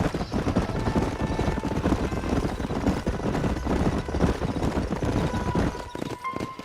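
Horses in the western game Red Dead Redemption clop along with quick, dense hoofbeats over a rumbling mix, with a whinny near the end.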